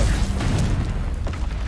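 A deep, booming blast from the Confringo fire spell in Hogwarts Legacy on hard mode, a rumbling low-end explosion with popping bursts that carries through the whole short moment, loud and close.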